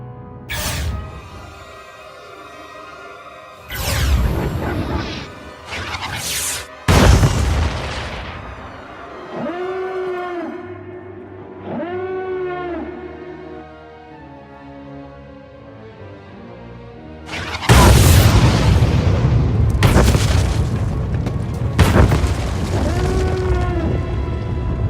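Satellite weapon strikes in Star Wars: The Old Republic land as several heavy, booming explosions, some arriving in close pairs. Between the blasts, moaning tonal sci-fi effects swell and fade, and a dense rumbling barrage takes over near the end.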